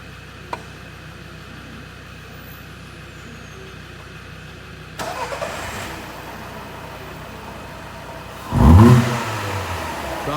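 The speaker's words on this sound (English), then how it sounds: "Snapping the throttle, number one." A Skoda Roomster 1.4 petrol engine with a lean fault idles steadily, then the throttle is snapped for a short rev that rises and falls back to idle, heard close and with no talk.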